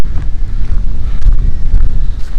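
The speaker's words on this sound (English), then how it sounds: "It's very, very windy here." Strong gusting wind buffeting the microphone on a countryside footpath in Norfolk, a loud low rumble that surges and eases throughout.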